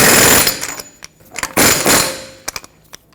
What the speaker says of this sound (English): I'm using an air impact